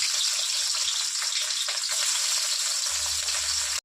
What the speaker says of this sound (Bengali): তেল দিয়ে দিই, সবজিগুলো সুন্দর করে ভাজি নিই।